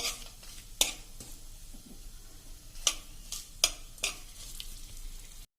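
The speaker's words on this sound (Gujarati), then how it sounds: "હવે એમાં આપણે આ ગ્રેપ્સનો જે પલ્પ કર્યો છે એ એડ કરી દેશું, અને સેજ સરખા સોતે કરી લેશું" Grape pulp sautéing in a pan for grape chutney, a faint steady sizzle broken by several sharp clicks and scrapes of a spoon against the pan, with no talking.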